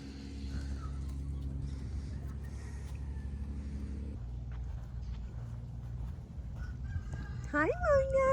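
Farm chickens cluck softly in the background over a low steady hum, then a rooster lets out a loud rising crow near the end; no clear talk.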